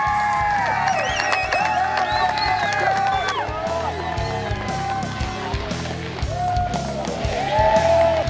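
A crowd at a 2019 racing awards ceremony cheers, whoops and applauds continuously, with shouts and voices rising over a thick roar of clapping that swells toward the end.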